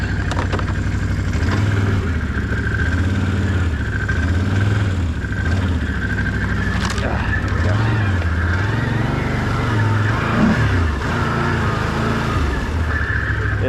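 Can-Am off-road vehicle riding through a rainy swamp, its engine droning loud and close with rising and falling revs as the throttle shifts.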